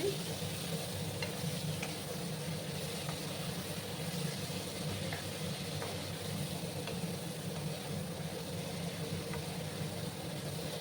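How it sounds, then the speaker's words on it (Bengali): Red lentils sizzle and crackle in a pan under steady stirring, a constant hiss with occasional soft scrapes and a low background hum, no talking. "এবার আমি ভালো করে নাড়াচাড়া করে নিচ্ছি।"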